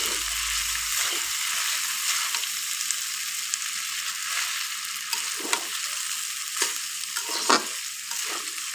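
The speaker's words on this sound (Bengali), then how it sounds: "আমি ভালোভাবে মিশিয়ে নিচ্ছি" Pasta and tomato sauce being stirred in a pan, a steady sizzling hiss with repeated scraping strokes of the spoon, close and continuous throughout with no talking.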